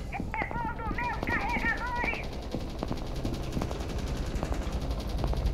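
Gunfire in Rainbow Six Siege, sharp shots cracking through the mix after an opening of high warbling tones, with game ambience underneath.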